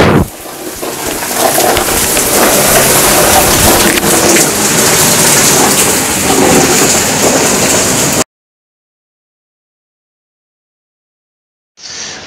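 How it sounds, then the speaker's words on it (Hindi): Heavy rain pours down steadily, a loud dense hiss with low rumbles like distant thunder, lasting about eight seconds before cutting to silence and briefly returning at the end. "मस्त बारिश हो रही है"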